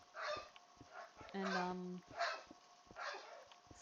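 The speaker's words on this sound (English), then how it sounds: "apologize for all the barking" Small yips and barks from a dog punctuate a Minecraft session. They come in several short bursts mixed with talking and game sounds, faint and somewhat distant.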